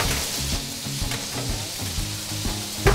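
Beef or vegetarian burger patties sizzle steadily in a frying pan, a close, dense crackle with faint low thumps and a louder pop right at the end.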